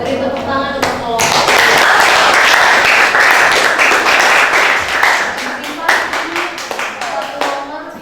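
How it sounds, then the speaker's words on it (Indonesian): An audience at a university teacher-training session applauds a group. A thick burst of clapping swells, then thins into scattered individual claps, with voices talking before and after. "Beri tepuk tangan untuk kelompok."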